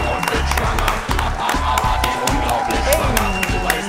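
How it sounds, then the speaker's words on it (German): A studio audience at a German talk show cheers and applauds a pregnant guest as she comes on, loud and dense clapping mixed with whoops, strong low thumps of music, and voices in the crowd. "Macht einen richtig fetten Applaus für Helseburger!"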